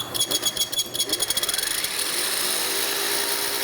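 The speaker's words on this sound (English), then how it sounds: "basically show you how a hollow chisel mortiser works" A Crescent hollow chisel mortiser starting up, rapid mechanical pulsing that speeds up quickly, then settles into a steady loud motor whine with a high ringing tone.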